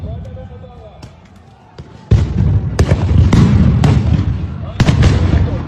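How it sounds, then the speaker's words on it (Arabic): Stun grenades burst inside the Al-Aqsa Qibli prayer hall, giving several sharp, loud booming cracks one after another over a roar of crowd noise and shouting, with people talking throughout. "كمان في داخل المصلى عم يطلقوا قنابل الصوت داخل مصلى القبلي"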